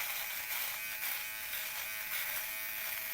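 A Xiaomi 3-in-1 electric trimmer shaves the neck, its motor putting out a close, steady high-pitched buzz with slight flutter as it moves over the skin, with no talking.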